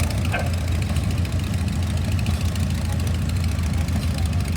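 A 1950 shop mule tractor engine chugging steadily at a steam and gas equipment parade, a continuous low knocking drone close by, with faint background voices.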